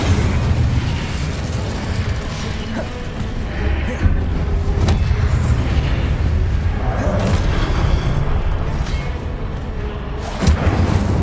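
Confringo explosive spell from the video game Hogwarts Legacy, a series of deep booming blasts and bursts layered over a dense low rumble of game action, loud and continuous with repeated sharp impacts.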